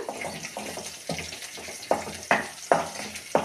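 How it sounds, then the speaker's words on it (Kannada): Green chillies and curry leaves sizzle in hot oil, a faint crackling hiss with several sharper spits and pops at irregular intervals, heard alone without talk. "ಇದು ಹಸಿವೆ ಖಾರ ಫ್ರೈ ಆಗ್ಬೇಕು ಚೆಂದಾಗಿ ಹಸಿಮೆಣ್ಸಿನ್ಕಾಯಿ ಎಣ್ಣೆಗ ಕುದಿಬೇಕು ಸ್ವಲ್ಪ"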